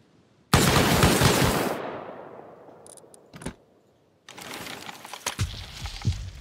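Turret fire in a raiding survival game: a loud sustained burst of rapid shots that fades out, a few isolated cracks, then another dense stretch of rapid automatic fire.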